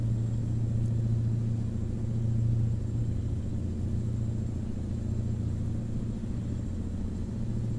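A Mack Ultraliner truck cruises in American Truck Simulator, its engine a steady, low rumbling drone that stays smooth and even throughout, with no voices.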